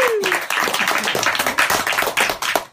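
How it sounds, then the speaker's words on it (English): Studio audience at a New Zealand talk show breaks into a dense, continuous round of applause, steady and fairly loud throughout with a brief voice at the start. "a big, thunderous round of applause for yourselves"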